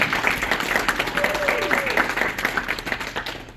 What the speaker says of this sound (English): So let's give it up for our host, Josh.